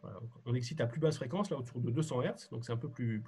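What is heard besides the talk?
None of the usual background noises is heard.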